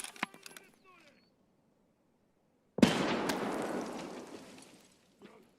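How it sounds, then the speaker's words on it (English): A grenade explodes in the game Escape From Tarkov, one sudden loud broadband blast that rolls on and decays over about two seconds, after a few faint clicks and brief sounds, with a small trailing noise at the end. "for Kaban, you just underhand a nade right there"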